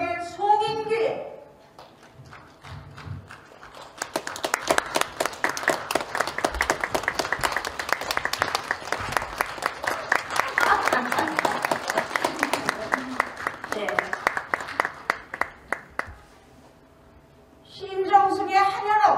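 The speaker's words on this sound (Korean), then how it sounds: "우리 극단한테 저는 박수를 보냅니다" Theater audience applauding a performance by a cultural arts troupe, a sustained wave of dense clapping lasting about twelve seconds, with someone speaking before it starts and again after it fades.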